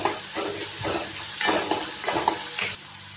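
Aloo ponga vegetables sautéing in hot oil in a pan, with a steady close sizzle broken by repeated scraping stirs roughly every half second, no voices.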